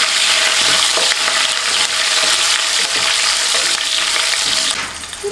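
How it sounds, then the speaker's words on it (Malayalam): Ginger, garlic, curry leaves and green chillies fry in hot oil for a lemon pickle, a loud dense crackling sizzle held steadily throughout with faint stirring, easing slightly at the very end. "1 തണ്ടോളം കറിവേപ്പിലയും അതുപോലെ 2-3 പച്ചമുളകും കൂടെ ഇട്ടിട്ട് അതും കൂടെ നന്നായിട്ടൊന്ന് മൂപ്പിച്ചെടുക്കുക എണ്ണയിൽ"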